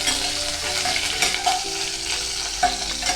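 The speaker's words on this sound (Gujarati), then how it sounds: "એક ચમચી જીરું ઉમેરીશું નાની ચમચી અને તૈયારીમાં જ લીલા મરચાં ઉમેરી અને હલાવી દઈશું" Cumin seeds and green chillies hit hot oil in a tempering for a jowar flour dish, giving a loud, steady close sizzle, with scraping stirs from a spoon through the pan and no talking.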